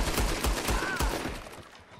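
Rapid gunshots from Red Dead Redemption 2 in a swamp zombie fight: four or five sharp, booming reports in quick succession over the first second, then a fading tail.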